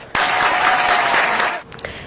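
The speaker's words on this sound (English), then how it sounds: "Let's give them a huge round of applause" An audience applauds a couple celebrating their 59th wedding anniversary, a burst of many hands clapping that starts abruptly, holds steady and loud for about a second and a half, then cuts off, leaving a few faint scattered claps.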